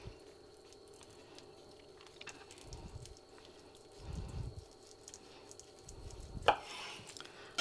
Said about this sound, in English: So I'm gonna slice myself a piece.